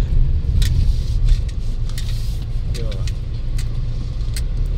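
Hyundai Santa Fe 2.2 with a bubbling radiator and coolant loss, driving on a road, heard from inside as a steady low engine and road rumble with a few light clicks and faint voices at times.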